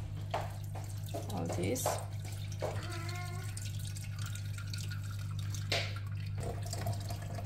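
Sauce drains from a pot through a strainer, with splashing liquid, drips and clinks against a low steady hum, while people talk briefly.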